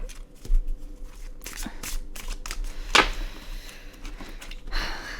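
A tarot deck is shuffled by hand close up, with rapid riffling bursts and soft slaps repeating over several seconds.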